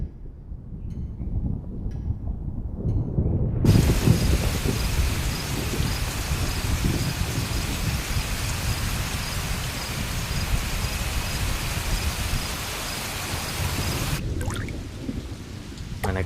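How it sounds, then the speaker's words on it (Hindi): Rain pours steadily in a film scene, a loud dense hiss with low rumbling that suggests thunder, starting after a softer opening and easing slightly near the end. "आज बारिश होगी।"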